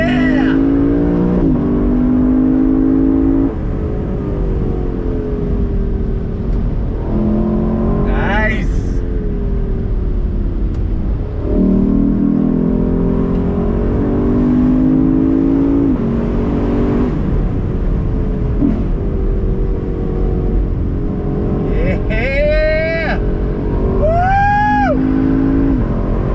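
A 2021 Lexus LC500 convertible in Sport Plus mode accelerates hard in second gear, its engine note climbing steadily and loudly through repeated rising pulls, with a person talking over the continuous roar.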